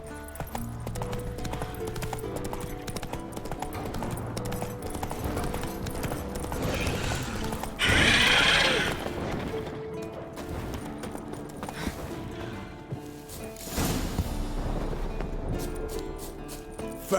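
Geralt's horse Roach gallops in The Witcher 3, a steady rapid clip-clop of hooves running close and continuous, with game ambience and a brief burst of noise partway through.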